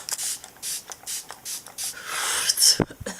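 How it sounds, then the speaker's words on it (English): Fix Plus makeup setting spray is misted onto a face in a quick run of about six short, close hissing bursts, followed by a longer, softer spray. "I'm just gonna spray the crap out of my face with some Fix Plus here"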